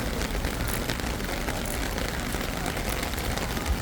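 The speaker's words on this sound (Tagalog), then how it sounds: "Ayun inabot na sila ng ulan." Steady, even patter of rain falling on surfaces in the Czech Republic, a broadband hiss with no clear voices.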